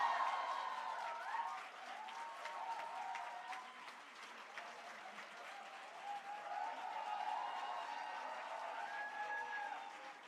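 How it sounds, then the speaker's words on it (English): Rapturous, steady applause from the audience at an MBBS graduation ceremony, heard from some distance and sustained throughout, with a few faint voices beneath the clapping. "The rapturous applause itself speaks."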